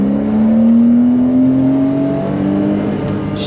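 Porsche Boxster S 3.4 flat-six with manual gearbox, revving hard under acceleration, its pitch climbing steadily toward about 7,000 rpm in a loud, continuous sweep heard from inside the car, with no talking.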